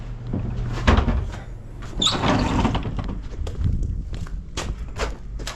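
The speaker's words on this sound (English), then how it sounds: "Oh, hey, there's the door, Biggs." A farm shop door swings open or shut, with a knock and a creaking squeak followed by sliding rattles and scuffs close by in a windy shed.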